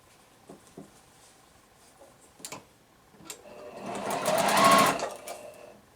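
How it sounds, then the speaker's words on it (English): A sewing machine stitches quilt pieces together, with a few soft clicks and handling taps first, then a brief whirring run of stitching that swells and fades out, close and moderately quiet. "sewing this next piece on"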